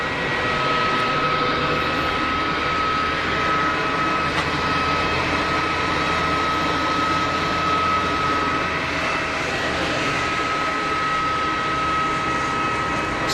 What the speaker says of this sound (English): easyJet 320 Neo rolling.